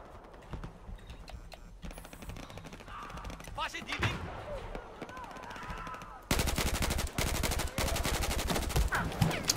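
Battlefield 4 gunfire: scattered shots and distant bursts, then a loud, sustained rapid automatic fire in the last few seconds, with keyboard tapping and someone talking over it.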